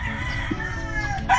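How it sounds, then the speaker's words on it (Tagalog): Chickens on a farm in Davao City, a brief burst of nearby clucking and crowing against steady outdoor background noise. "Ngayon ay pagbibridingan na ng mga manok."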